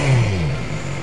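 Stock-exhaust BMW S1000XR motorcycle engine, a steady low drone that rises briefly then settles into a continuous idle-like rumble, close and fairly loud with no voices.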